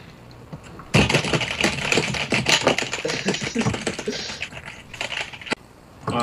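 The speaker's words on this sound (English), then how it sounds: "I bet his typing's louder than him actually talking" Rapid, loud clattering on a computer keyboard, close up, with dense irregular keystrokes that burst in after a quiet start and keep going with brief pauses.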